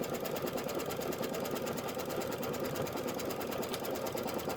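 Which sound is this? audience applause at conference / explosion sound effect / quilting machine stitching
quilting machine stitching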